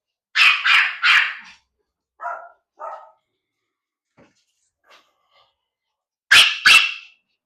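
Pomeranian dogs bark: three sharp barks, then two softer barks, a quiet stretch, and two more loud barks near the end, with no people talking.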